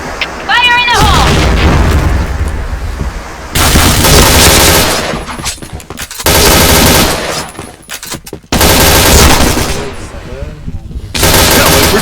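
Explosive bursts and rapid gunfire from a Point Blank online shooter match, loud and dense, with several heavy blasts and rattling shots following each other and a short game voice call near the start.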